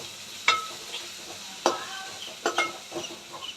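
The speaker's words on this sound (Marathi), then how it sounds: "आता टमाटा छान परतून घेऊ आपण" Tomatoes sautéed and stirred in a pan for a potato curry, with sharp spoon scrapes and clinks over a soft sizzle, a few distinct stirring strokes spread across the moment.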